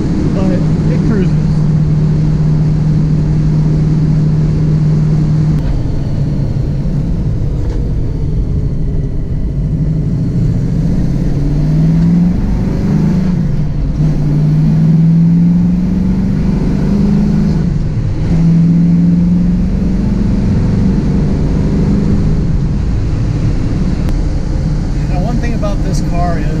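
A first-generation Ford Mustang with a manual transmission cruises along after accelerating to around 90–95, its engine holding a steady low drone that shifts pitch as it changes gears, with continuous road and wind rumble throughout.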